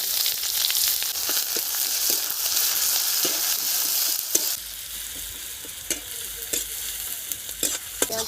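Onions sizzle in hot oil with cumin seeds in a village kitchen pan, a steady bright frying hiss broken by the scrape and clatter of a stirring spatula, close and alone.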